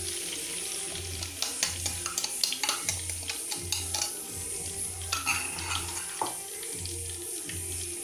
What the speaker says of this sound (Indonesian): Langsung aja kita jatuhkan cabai yang udah di blender tadi.